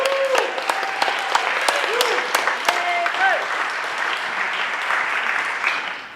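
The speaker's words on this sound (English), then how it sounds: "And he deserves your applause." An audience at an awards event applauds, producing a dense, sustained wash of clapping that carries on steadily for several seconds and tapers off near the end. Brief whistle-like tones sound over it.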